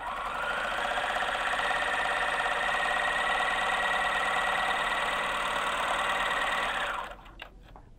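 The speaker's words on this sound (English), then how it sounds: "I'm going to sew with a really low tension." A 4-thread overlock sewing machine runs a seam at low thread tension, a steady loud whirring hum for about seven seconds that stops abruptly near the end.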